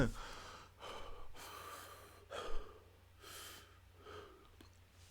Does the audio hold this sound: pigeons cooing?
no